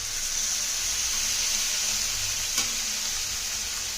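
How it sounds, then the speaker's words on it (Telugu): Salted fish frying in a pan, a loud steady sizzle with a faint stir or clink partway through, no talk. "అలాగా తిప్పి ఎర్రగా చక్కగా వేయించడం చూడండి మన చేపలు చక్కగా వేగిపోయినాయి"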